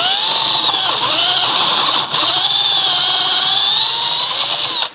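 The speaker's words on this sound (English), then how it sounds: "so I got it drilled out" Power drill spinning at high speed and drilling out a damaged thread for a Time-Sert repair, a loud close whine holding steady for about five seconds before stopping.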